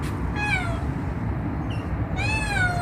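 A newborn kitten mews repeatedly in high, thin cries, two bursts of several calls each, close by over a steady low background hum.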